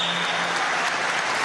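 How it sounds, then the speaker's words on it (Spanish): Brief burst of audience applause at a public event honoring metro engineers and workers, thick and steady crowd clapping filling the moment. "Un aplauso a Carlos Alberto y a todos los ingenieros y trabajadores del metro"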